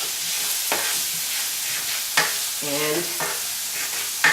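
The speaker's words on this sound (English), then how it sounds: "So my onions and my red peppers have been cooking for about 3 minutes." Chopped onions and diced red peppers frying in a pan for chicken paprikash, a continuous sizzle broken by a few sharp stirring scrapes and clatters of a utensil, with one brief spoken word.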